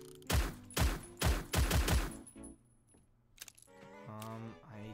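Gunfire in Roblox Phantom Forces, a close, loud string of about eight rapid shots in two bursts, then clicks and a faint voice as the firing stops.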